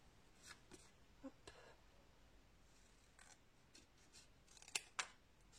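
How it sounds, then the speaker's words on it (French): Scissors cutting a straight line through scrapbooking paper for a mini album, a few faint, sparse snips and paper rustles, with two sharper clicks near the end, quiet and close with no talk. "Donc je vais couper une droite ici."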